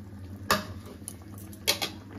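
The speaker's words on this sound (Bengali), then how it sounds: "কড়াইশুঁটিগুলো দিয়ে দিলাম," Green peas tipped into a cooking pan while making a spiced duck egg and cauliflower dish, giving two short clattering bursts of the peas and utensil against the metal over a low steady kitchen hum.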